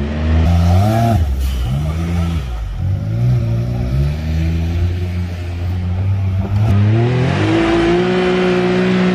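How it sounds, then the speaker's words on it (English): A fast Can-Am vehicle accelerates hard, its engine loud and close as it revs up in pitch through several rising sweeps with brief drops between them. There is no talking. "it's a very fast Can-Am that we're in."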